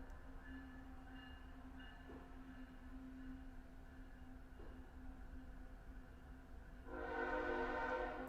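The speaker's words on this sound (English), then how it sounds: "Can you guys hear the train going by my house?" A train rumbles steadily past a house right at a railroad crossing, then its loud harmonic horn blasts in near the end, with no talking.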